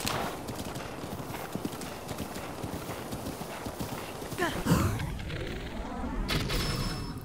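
Epona the horse gallops in Zelda: Breath of the Wild, with loud, rapid, rhythmic hoofbeats close by, a heavy thud and a burst of other game noise near the end.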